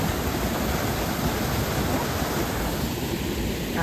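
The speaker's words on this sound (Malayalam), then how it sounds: "കണ്ടോന്ന് കനാല് വെള്ളച്ചാട്ടം" A small canal waterfall gives off a loud, steady roar of falling water, dense and continuous throughout, heard close with no speech.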